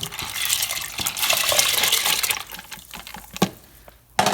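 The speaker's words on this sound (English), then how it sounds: "we're going to add our lentils" Dry lentils poured into a pot of water for soup, giving a loud rattling, pattering rush with splashy clinks that fade out, followed by a couple of sharp knocks of a pot or utensil.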